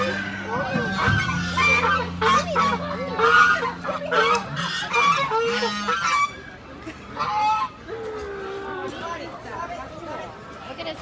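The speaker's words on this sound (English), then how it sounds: "There's more peacocks up top. And chickens." Peacocks and chickens on a farm call out in a busy mix of honks, squawks and clucks, with people talking over much of the stretch.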